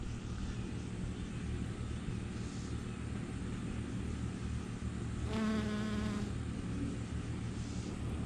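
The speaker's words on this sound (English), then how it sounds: "and you can see the bees." Bees buzzing around flowering broccoli plants outdoors, a soft continuous drone with a louder pass of buzzing for a moment in the middle.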